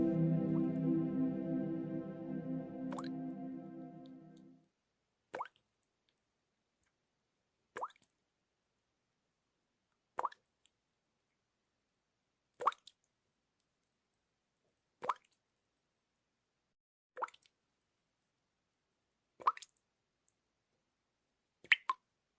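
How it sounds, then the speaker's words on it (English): Water drips steadily in a quiet, dim setting, with nine or so sharp, isolated plops spaced about two and a half seconds apart after a brief low hum fades out; each drop is clear and close, with no voices. "The sound of dripping water woke her."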